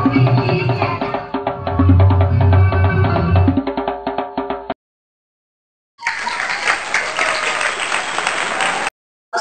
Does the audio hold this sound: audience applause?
yes